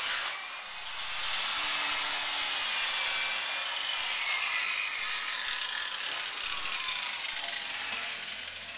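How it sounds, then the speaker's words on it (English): Workers scraping and sanding windows on a construction site give a steady, hissing, gritty rasp with a mechanical ratcheting texture, moderately distant and continuous after a quiet first second, with no talking. "You can see they're out there scraping, sanding all the windows and everything."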